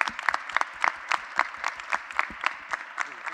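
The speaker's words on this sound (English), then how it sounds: "Big applause for him also." Steady audience applause for a vice-mayor at a women's event in Portugal, a dense run of many hands clapping with regular sharp peaks, moderately loud and continuous throughout.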